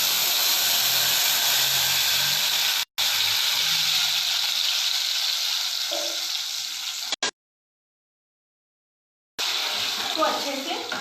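Gravy tipped into a pan of hot oil tempered with cumin and whole dried red chillies, giving a loud, steady broadband sizzle and hiss that cuts out briefly, then resumes with crackling.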